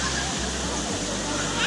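Kawasan Falls in Cebu rushes as a dense, constant wash of falling water, close and loud, with a light splash near the end.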